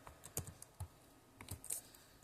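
Fingers typing an email address on a computer keyboard, a quiet, irregular patter of individual key clicks heard close up in an otherwise silent room.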